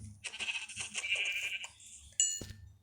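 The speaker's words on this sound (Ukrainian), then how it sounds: "О, ще одна вівця" A wavering bleat from a sheep in a video game rises and falls for over a second, followed after a pause by a sharp electronic chime-like effect.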